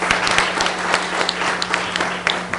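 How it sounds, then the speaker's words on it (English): An audience at an essay contest award ceremony claps in steady, dense applause, many hands close and continuous, with a faint hum underneath. "So let's give them a big round of applause."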